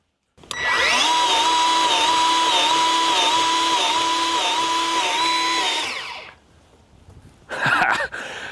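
A battery-powered grease gun runs steadily for about five seconds, pumping grease into a clogged zerk fitting with a close, loud motor whine, then stops; a brief clatter of handling follows.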